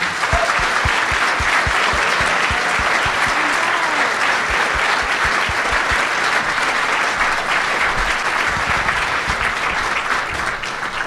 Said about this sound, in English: Please help me in applauding them.